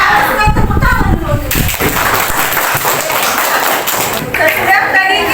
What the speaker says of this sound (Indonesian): Senang, tepuk tangan dulu.